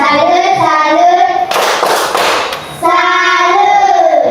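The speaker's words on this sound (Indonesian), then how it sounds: "tepuk salut untuk kelompok Mawar" Children in a classroom chant in rhythm, break into a short burst of group clapping as a salute, then return to chanting.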